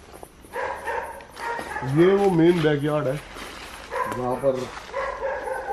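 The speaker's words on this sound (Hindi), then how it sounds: "आप आवाज़ें सुन सकते हो कुत्तों की।" Several dogs yelp and howl in a deserted house's overgrown backyard in Goa, with a couple of loud wavering bursts heard close by while someone speaks.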